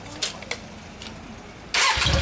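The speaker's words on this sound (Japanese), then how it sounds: "エンジン音聞かせて。" A 2003 Yamaha Drag Star motorcycle fitted with an Easy Rider exhaust: a few faint clicks, then the engine fires abruptly and loudly in the final half-second, a close, broadband burst of exhaust.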